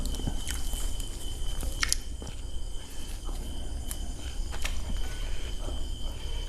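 A big bite of leaf-wrapped fish is chewed with soft, wet crunching close to the mic, over a steady outdoor background of insects.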